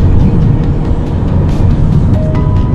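Trabant and Lada cars drive on a busy road, with a loud, steady rumble of engines and traffic close by and no talking.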